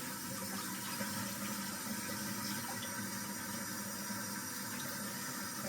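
Hot water running steadily from a tap into a sink, a continuous broadband rush heard close and alone for the whole stretch with no talking.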